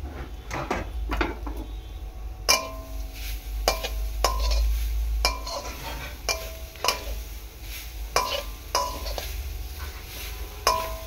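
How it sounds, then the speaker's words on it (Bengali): Grated coconut being stirred in a wok, a steady series of sharp scraping and clanking strokes from the utensil against the pan, close and fairly loud, over a low background rumble. "এদিকে দেখো নারকেলটা আমি দিয়ে দিচ্ছি কড়াইতে"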